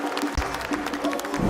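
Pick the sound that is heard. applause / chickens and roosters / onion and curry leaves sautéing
applause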